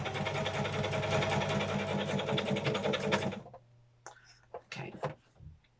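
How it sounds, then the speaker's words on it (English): Sewing machine stitching through paper, a fast steady needle rattle close by for about three seconds, then stopping, followed by a few small clicks and handling knocks. "Sewing machine's trying to eat the paper"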